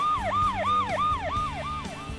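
An ambulance siren wails in a steady, fast rising-and-falling cycle, loud and continuous, with a low engine or traffic rumble underneath.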